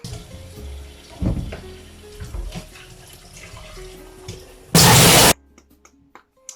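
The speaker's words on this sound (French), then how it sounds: "Bon je vais me laver les dents." Water from a bathroom tap while someone brushes their teeth: faint running and clinks in a quiet room, then a loud gushing burst of about half a second before the tap shuts off and small bumps follow.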